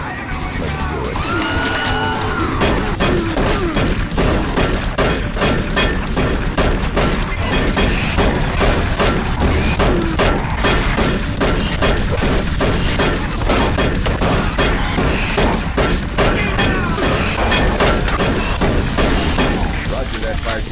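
Dense, loud game combat from Doom 3 with the shotgun: rapid booming blasts and impacts pound almost nonstop, mixed with chaotic effects and game voices.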